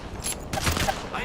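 A short burst of rapid gunfire crackles in a shooter video game, a quick volley of close, loud shots layered over game noise.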